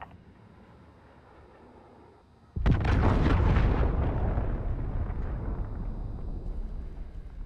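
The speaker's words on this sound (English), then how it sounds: "Enemy cruise missile incoming!" A cruise missile explosion in Call of Duty: Modern Warfare hits as one sudden loud blast after a quiet stretch, then a long rumbling roar that slowly fades.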